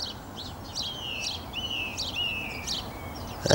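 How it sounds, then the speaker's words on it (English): A song thrush's bright song with repeated whistled phrases and chirps rings out nearby by a canal, over a soft background hiss. "That's a song thrush."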